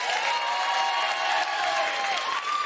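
Steady applause from a theatre audience at a stand-up comedy show in Swansea, sustained and fairly loud, with a few cheers mixed in.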